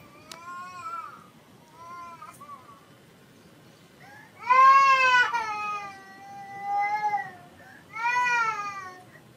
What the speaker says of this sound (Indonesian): ini ada suara bayi.